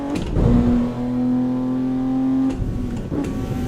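A car engine in the racing game Assetto Corsa holds a steady, loud tone at revs for about two seconds, then falls away as the throttle lifts, with a rougher burst of engine sound near the end.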